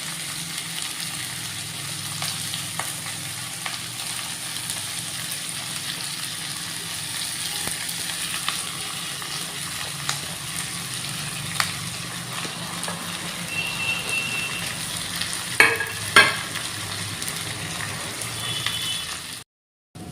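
Cooked rice mixed with a little leftover pulao and biryani stir-fried in a pan, giving a steady soft sizzle and scraping across the whole stretch, with a couple of sharper clinks near the end before it cuts off.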